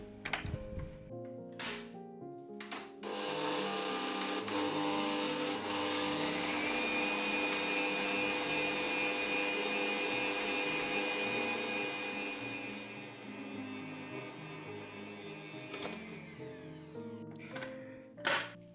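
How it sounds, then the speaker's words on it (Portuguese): An electric hand mixer runs steadily, beating unsalted butter and dulce de leche into a smooth cream. A loud, sustained whir shifts pitch once partway through, with a few knocks of the bowl near the start and end. "Agora eu vou bater até formar um creme bem liso."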